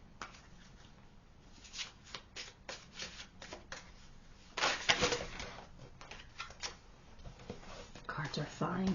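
A deck of cards is shuffled for a pick-a-card reading in quick irregular riffles and flicks, close up, with a louder flurry midway and soft rustling between.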